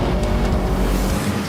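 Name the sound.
BMW X5M driving in sports mode on the Nordschleife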